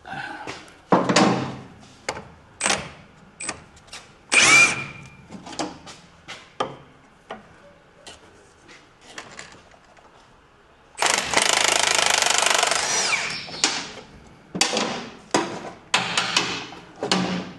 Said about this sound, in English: nut runner on it, that might fetch it off.